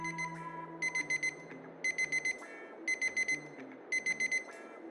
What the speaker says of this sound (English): you get a very unique sort of mission complete sound